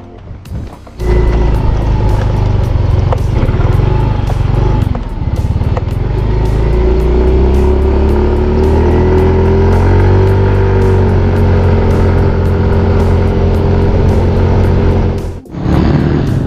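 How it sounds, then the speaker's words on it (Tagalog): Motorcycle ridden along a road, with a steady engine drone and wind rumble that starts after a brief quiet moment, holds loud and close for most of the ride, then dips near the end. "ang gagamitin natin ay motor"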